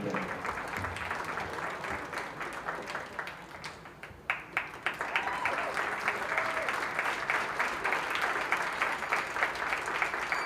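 Audience applause fills a junior fair sheep show ring, steady clapping throughout that dips briefly and then swells back louder, with faint voices mixed in.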